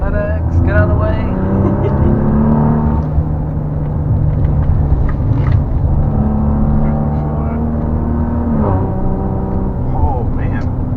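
Maserati Levante S engine and exhaust rumbling loudly and steadily from inside the moving SUV, with the note rising and falling as it accelerates.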